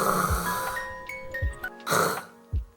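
A voice imitates snoring with a few rough, rasping breaths, spaced unevenly and close by.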